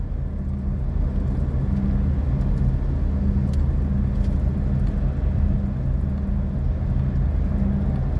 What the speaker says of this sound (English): See that old Cadillac that just drove by?